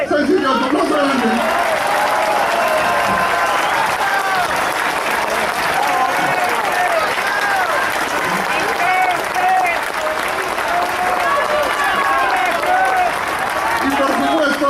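A large outdoor crowd at a political assembly in a park claps and cheers continuously, a dense and loud wash of applause with voices mixed throughout.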